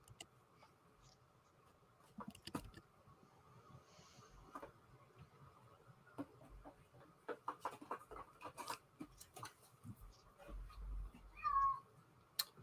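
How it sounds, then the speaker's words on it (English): A hungry cat meows indoors at night, a faint high cry near the end amid scattered taps and clicks from a card game being played close by. "And the second cat of the night is stepping out. Oh, Oh, and she is hungry."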